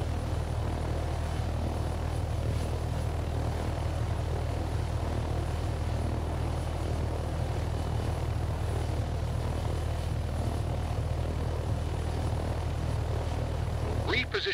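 Steady helicopter rotor and engine drone in a training flight game, a continuous low throbbing hum holding level throughout as the aircraft hovers over a load, with a voice talking faintly underneath.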